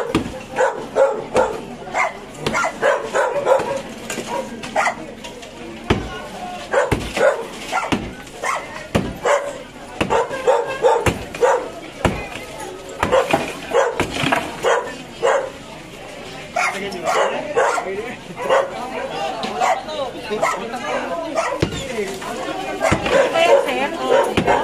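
Stray dogs bark repeatedly in a noisy street setting, sharp yaps and occasional whimpers scattered throughout, heard amid ongoing people talking nearby.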